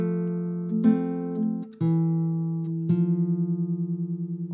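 Classical guitar playing a single bar from a Julio Sagreras beginner lesson: three plucked bass-and-chord notes in sequence, the last sustained with a gentle wavering, quiet and unaccompanied.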